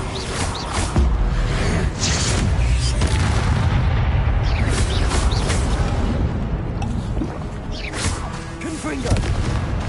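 Confringo explosive spell blasts in the game Hogwarts Legacy, repeated loud booms and crackling bursts amid busy combat sounds, with a voice speaking over the action.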